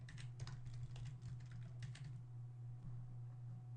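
Computer keyboard keys clatter in quick bursts as a coupon code is typed in, close and steady, over a low constant hum and with no voices.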